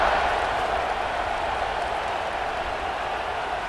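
A football stadium crowd cheering after a scoring drive at an LSU versus Arkansas game, a broad, steady wash of roaring noise from a large crowd, loud and sustained throughout.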